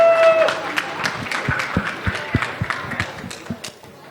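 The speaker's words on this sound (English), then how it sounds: "A big applause for the artwork" A small audience at a video game launch event claps unevenly, sharp individual claps rising and thinning out, with a voice briefly at the start.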